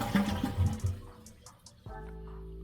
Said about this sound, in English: Now let's flush to empty out the water.